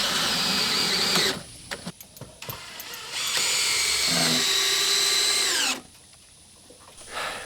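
Power drill driving screws into wooden soffit strips under house rafters, with loud whirring bursts starting and stopping, several short runs then a long sustained spin before cutting out.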